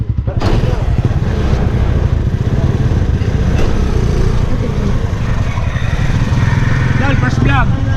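A motorcycle engine runs loud and close as the rider sets off, a steady rumbling chug that holds throughout.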